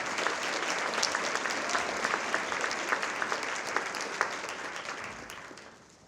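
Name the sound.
audience applause at a charity luncheon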